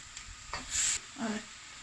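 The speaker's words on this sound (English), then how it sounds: "I'm just adding my noodles to the mushrooms" Drained noodles tipped into a pan of frying mushrooms, a brief close sizzle and stirring scrape, two short bursts with a quieter pause between.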